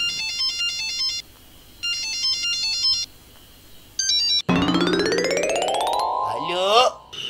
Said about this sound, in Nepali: कहिले फोन बजायो फेरि